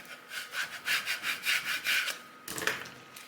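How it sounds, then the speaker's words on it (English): Vinyl transfer tape is burnished down with a scraper for a Cricut home sign, giving rhythmic close rubbing strokes, about eight quick passes, then a short pause and a final scrape. "And then burnish it down to pick that all up."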